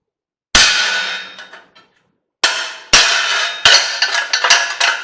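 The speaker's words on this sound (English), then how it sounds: "this is a 2-pound ball peen, and we'll see if we can't drive it out of there." A 2-pound ball peen hammer strikes a metal drift while driving a part out of a scrapped three-fan refrigeration unit. A single sharp clang rings out, and then a burst of four or five loud, ringing metallic blows follows, close and with no voices.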